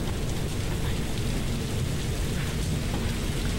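Steady rain falls in the Tomb Raider video game, a dense continuous wash of drops with a low rumbling undertone, loud and even throughout with no voices.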